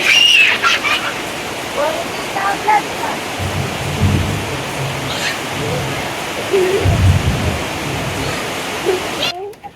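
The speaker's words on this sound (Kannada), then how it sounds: "ಕುತ್ಕೊಂಡು ಮಳೆ ಎಂಜಾಯ್ ಮಾಡ್ತಾ ಇದೀವಿ." Heavy rain falls steadily in a village in the evening, a broad continuous wash of water with low rumbling swells that may be distant thunder, plus a few faint higher calls and brief sounds over the rain.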